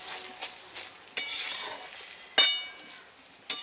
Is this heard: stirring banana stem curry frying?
yes